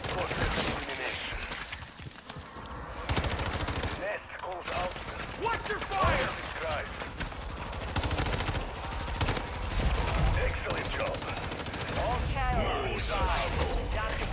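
Sentry guns firing in MW3 Zombies, rapid loud automatic bursts that start and stop repeatedly with someone talking over much of the shooting.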